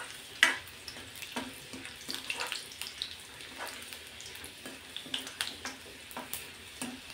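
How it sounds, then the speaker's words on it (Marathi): Finely chopped garlic and cumin frying in oil in a pan. A soft, fairly quiet sizzle runs throughout, broken by repeated scraping and clinking from stirring, with no talking. "लसूण चांगला असा परतून घ्यायचा तेलावर"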